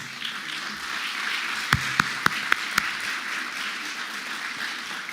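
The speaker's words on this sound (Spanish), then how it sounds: "Un aplauso grande para ella." A church congregation applauds in a steady, moderate wash of clapping, with a few sharper, louder claps standing out near the middle before it settles back into an even patter.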